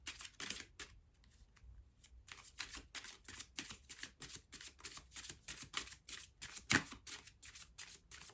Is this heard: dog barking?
no